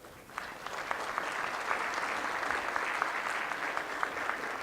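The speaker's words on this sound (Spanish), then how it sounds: "Un aplauso, por favor." Audience applause at a Bolivian tax law conference, steady dense clapping from a seated crowd that starts just after the opening moment and holds evenly throughout.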